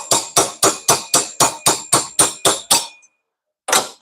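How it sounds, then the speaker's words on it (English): Vise grip pliers used as a hammer on a flat washer: eleven sharp metallic strikes in a quick even rhythm, close and loud, then a brief pause before one more hit. "Vice grip hammer"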